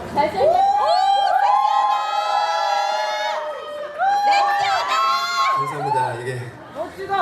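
An outdoor crowd at the Korea Tuning Car Festival in Jecheon cheers and whoops for a singer on stage. Voices rise and fall in loud, scattered shouts for several seconds.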